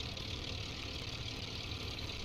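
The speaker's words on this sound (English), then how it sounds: "Alright, we're running on both engines now." Both engines of a twin-engine Cessna 337 in the X-Plane 11 flight simulator run together as a steady, even drone that holds constant with no pauses.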